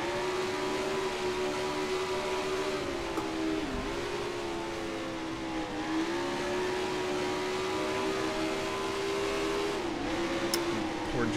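Engines of several BRM race cars running nose to tail in the racing simulation Grand Prix Legends. A continuous whining engine note rises and briefly dips at gear changes, steady and loud throughout.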